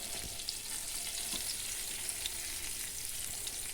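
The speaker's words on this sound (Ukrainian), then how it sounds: "гаряча сковорідка" Steady sizzling of battered parasol mushrooms frying in a hot pan, a continuous hiss with occasional small pops, no voices.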